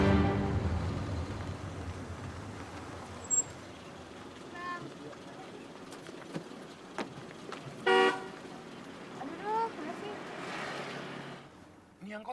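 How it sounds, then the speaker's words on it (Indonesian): A car horn honks a few short times on a busy Indonesian street near a campus, standing out over faint traffic noise and voices. "Nyantai aja kali, kagak usah pakai klakson."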